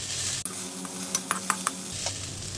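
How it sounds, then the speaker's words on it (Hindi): Onion with masala fries in a pan, a soft steady sizzle overlaid by a sudden thump and then a cluster of bright spoon clinks and scrapes against the metal, with no speech. "ये कांदे को थोड़ा सा फ्राई करना रहता है"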